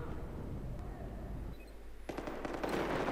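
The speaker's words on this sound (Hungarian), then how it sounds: "Jó van, már örülnék neki, ha abba hagynátok itt a lövöldözés" Gunfire in Battlefield 4 on the Hammerhead map, bursts of rapid shots over a rumbling battle background that grow denser and louder toward the end, with no talk.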